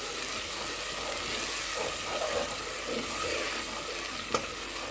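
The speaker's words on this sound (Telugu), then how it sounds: "ఇది కూడా ఇప్పుడు జీడిపప్పు పేస్ట్ కూడా వేసేస్తున్నాను ఇది కూడా కొంచెం సెగ తగ్గించి తిప్పండి" Cashew paste sizzling in hot oil in a pan while being stirred for chole masala, a steady close frying hiss with soft scraping strokes and one sharp clink near the end.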